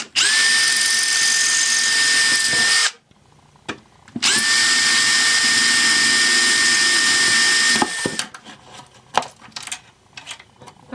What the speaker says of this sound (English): Just going to drill it out.